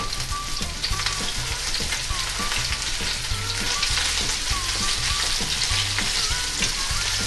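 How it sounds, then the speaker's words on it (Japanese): Thick chicken cartilage tsukune patties searing in a well-heated frying pan, giving a steady, dense, loud sizzle throughout with no talk. "よく熱したフライパンにスライド。 そしたらまず片面ずつ焼いて、"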